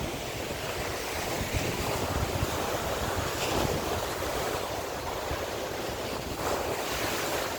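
Sea waves wash steadily onto the shore at Jomtien Beach, Pattaya, at night, in a continuous hissing roar, mixed with wind rumbling across the microphone, no voices.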